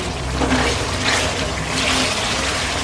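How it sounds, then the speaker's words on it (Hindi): Water poured into a pot of chicken korma cooking in ghee, a steady rushing, splashing pour that continues evenly and fairly close with no talking over it. "अब बस मैं इसमें डालने लगी हूँ पानी।"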